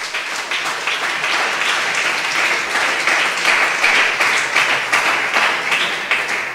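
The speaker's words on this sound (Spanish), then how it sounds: "un aplauso al Señor en esta hora" A church youth service congregation applauds steadily, dense clapping from many hands filling the room for several seconds without a break.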